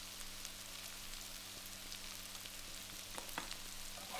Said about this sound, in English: Continue to cook the potatoes and the onions, turning occasionally for a further 5 minutes until the onion softens